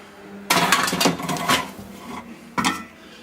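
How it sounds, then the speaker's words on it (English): A large heavy Dutch oven pot being pulled out of a kitchen cupboard, loud metallic clanks and scraping in a busy burst, then a short second clatter after a pause. "I'm going to have to get this big one out, the Dutch oven."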